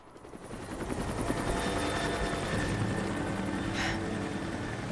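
A helicopter in the Tomb Raider video game drones steadily and loudly with a fast rotor chop, rising slightly at the start and holding throughout without speech.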